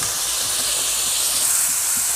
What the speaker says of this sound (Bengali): এরপর আর তৈরি করে রাখা ব্যাটারটা আমি দিয়ে দিচ্ছি।